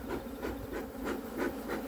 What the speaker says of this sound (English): So just smoke those bees down like that